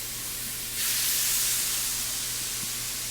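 Food sizzles in a very hot pan during a home dessert cooking session, a steady close hiss that swells into a louder spitting crackle after a moment and then holds, with no talking.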